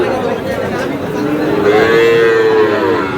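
A Sahiwal bull lets out a long, loud, drawn-out moo close by, its low tone rising and wavering over a steady background murmur.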